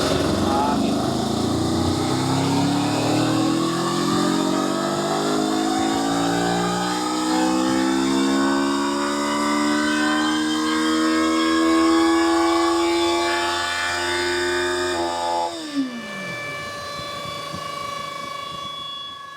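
A Kawasaki Eliminator 500 motorcycle engine on a dynamometer revs in one long, steady climb in pitch that grows louder, then cuts off sharply near the end and drops back to a lower, rougher running note.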